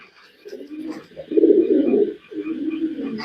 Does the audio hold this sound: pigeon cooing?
yes